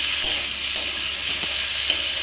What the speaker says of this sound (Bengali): এটা কিন্তু আমি তেলের মধ্যে দিয়ে দেবো ভাজার জন্য